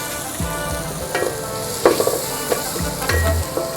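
Onions frying with salt in a pan for veg kuruma make a steady, close sizzle, broken by the scrapes and light clinks of stirring. No one talks.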